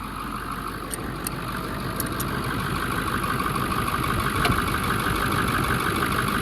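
The Ford 7.3 diesel engine of a high-mileage, long-neglected truck idles with a steady low clatter, fairly faint, with a few brief clicks near the start.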